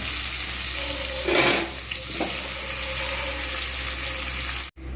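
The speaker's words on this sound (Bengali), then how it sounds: "এবার এর মধ্যে আমি লেগ পিসগুলো ভালো করে ভেজে নেব" Chicken leg pieces marinated in chili, turmeric and mustard oil frying in hot oil, a steady loud sizzle with a brief surge partway through, close up and with no voices.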